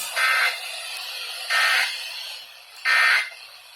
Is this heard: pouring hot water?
no